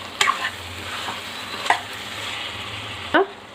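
A spoon scrapes and stirs chicken curry with garam masala in a hot pan over a steady sizzle, with three distinct clanking strokes against the pan, close and loud, no speech.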